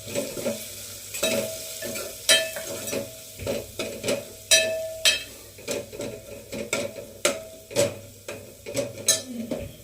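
Spices with turmeric stirred and sizzling in a pan for a sprouted green moong curry, the spoon scraping and clinking in a steady rhythm over a constant close frying hiss.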